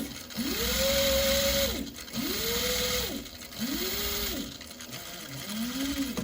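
A sewing machine stitches the seams of a bag in four bursts, each a rising then steady motor whine with rapid needle clatter, close and loud, with short pauses between runs.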